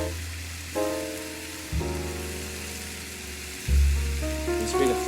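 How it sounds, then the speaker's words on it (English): Food sautés in a pan for Beef Wellington with a sprig of fresh thyme, a close, steady sizzle that swells in a few louder bursts, with no talking. "we're just gonna saute them until they're golden brown"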